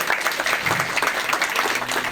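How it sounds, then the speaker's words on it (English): Audience applause at an NYPD promotion celebration, steady dense clapping from a crowd lasting the whole moment without pause, moderately loud and close. "Big hand applause for Rafal Awad."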